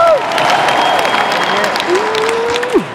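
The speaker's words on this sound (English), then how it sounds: "Guys, give yourselves a round of applause." Applause from a crowd of young people at a gathering in Bulawayo, Zimbabwe, a steady patter of clapping lasting throughout, with a voice sliding in pitch over the top.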